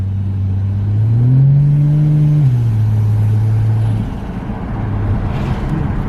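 Turbocharged Ford Falcon XR6 engine revs up loud and close, pitch climbing, holding, then settling back to a steady idle, followed by a second, softer rise in engine note.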